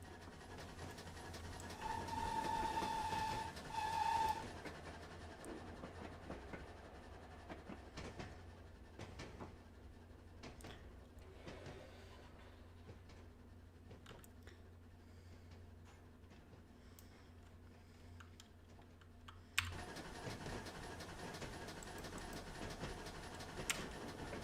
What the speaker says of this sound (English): we're going to speed this little loco up to do a bit more than 30